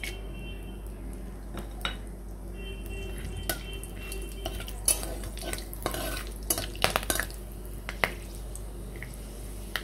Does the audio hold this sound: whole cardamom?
yes